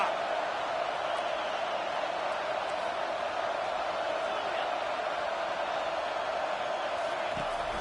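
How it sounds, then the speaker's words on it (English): Roaring football stadium crowd at an LSU versus Michigan game, a steady loud wash of noise from thousands of fans building before a fourth down, heard from a distance with no single voice standing out. "This crowd busting the decibel meter and trying to will a fourth down stop."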